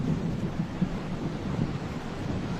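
Heavy rain storm with wind roaring steadily throughout, a dense continuous wash of noise with low rumbling, no voices.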